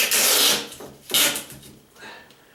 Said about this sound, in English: Now I just swivel the masking tape roll. It goes right down exactly where you want it every time.